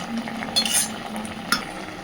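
Fish curry bubbling gently in a pan with a soft spoon scrape and a couple of light clinks, quiet and close, no voices.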